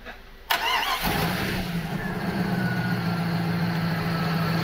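Off-road rescue Jeep fitted with hydro assist and snow tracks cranks briefly, catches and settles into a steady, loud, close idle that holds to the end.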